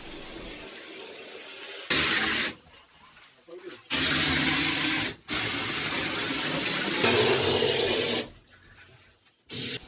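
Wet cement is sprayed onto basement walls in loud hissing bursts of a few seconds each, broken by quieter gaps with faint rubbing and background noise.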